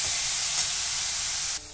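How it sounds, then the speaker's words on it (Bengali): Salted radish sizzles and hisses steadily in a hot wok, a close, continuous frying crackle that drops off abruptly at the very end. "মূলোটা আমি কড়াইয়ের মধ্যে দিয়ে দিচ্ছি।"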